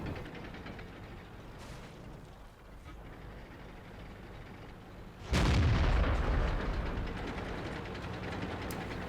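A tank cannon fires in World of Tanks during a T26E4 SuperPershing battle, one abrupt heavy boom that rumbles and decays slowly over a quiet, low background hum.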